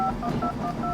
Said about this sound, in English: a software dial pad